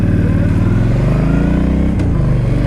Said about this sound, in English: The 1300cc engine on this definitely packs a good amount of power